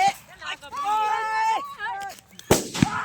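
A Diwali firecracker goes off with a loud, sharp bang and a second burst just after, following a stretch of excited talking.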